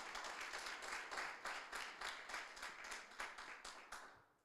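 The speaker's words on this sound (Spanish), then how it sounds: "¿Cuánto le pueden dar un aplauso a Jesús?" A church congregation breaks into sustained applause, dense overlapping clapping with rhythmic surges that fades toward the end.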